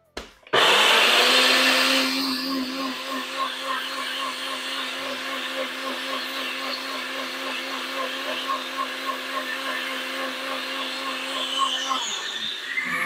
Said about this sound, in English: you put that in a blender in your nice bullet